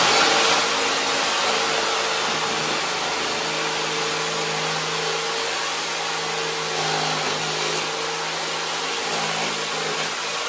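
A power tool steadily cutting a plastic Bose subwoofer enclosure, a continuous loud whining drone with a shifting motor tone throughout, no talking.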